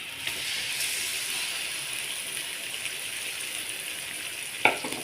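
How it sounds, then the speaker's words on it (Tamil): Beaten egg hitting a hot pan for egg rice, a steady close hiss of frying that runs throughout, with a brief sharper spatter near the end. "இப்போ உடச்சி வச்ச முட்டையை ஊற்றிக்கலாம்."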